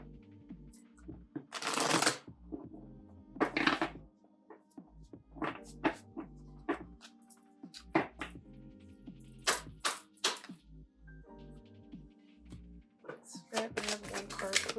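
Tarot cards shuffled in repeated riffling bursts with scattered soft card taps and slaps, close and fairly loud, with faint low hum beneath and no voice.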